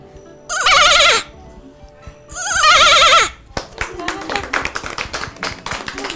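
A person imitates a goat with two wavering, nasal bleats in quick succession, close and loud, followed by a burst of scattered clapping and tapping.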